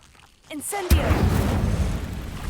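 A fire spell is cast in the Hogwarts Legacy video game, a rising whoosh that bursts into a loud, roaring rush of flame and then fades away.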